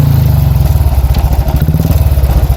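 A custom scrambler motorcycle built on a Thunderbird base, running cold, gives a loud, close, rapid thumping idle with an even low pulse throughout and no speech over it.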